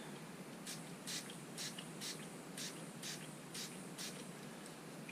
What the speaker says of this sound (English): So I think maybe another quick blast of the old spray.